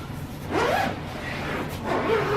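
A zipper is pulled open on a drone return box for a Yuneec H480 in two separate close, rasping runs with a brief pause between them and no talking.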